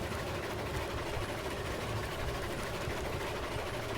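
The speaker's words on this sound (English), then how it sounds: "let's just enjoy the sounds of the train" A locomotive in the Railroads Online train game runs with a steady low engine rumble and a dense, even mechanical chug that holds at a constant level throughout, with no talk over it.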